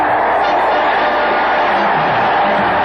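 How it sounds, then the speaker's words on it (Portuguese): Football crowd in the stands at a 1969 São Paulo versus Santos Paulista match, a dense roar of cheering and whooping that stays loud and continuous throughout, heard from a distance as a broad wash. "nas arquibancadas a torcida já começava a festa"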